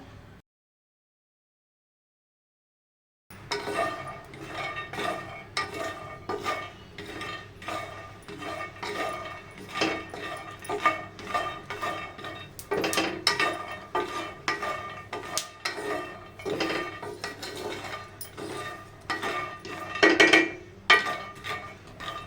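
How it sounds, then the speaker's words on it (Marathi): Peanuts dry-roasting in a pan over medium gas rattle and scrape as they are stirred, a busy close clatter of nuts and spoon against metal after a brief silent start, with no speech. "शेंगदाणे असे मीडियम गॅसवरती आपल्याला इथे भाजून घ्यायचे आहेत"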